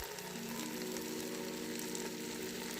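Chicken pieces cook in a pan with a soft, steady sizzle at low volume, heard alone for a few seconds before palm-wine toddy goes in.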